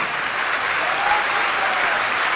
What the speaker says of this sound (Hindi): जोरदार तालियों के साथ अनुमोदन करें।